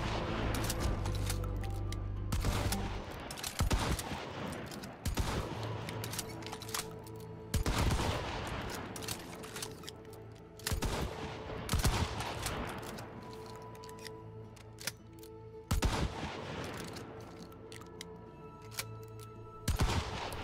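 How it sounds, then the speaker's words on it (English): Rifle fire from Romero Alamo guns in Hunt: Showdown, with sharp, loud shots spaced a few seconds apart across the stretch and ringing tails between them. No voices are present. "So here is a comparison of 5 shots with each weapon, made and timed in a control environment."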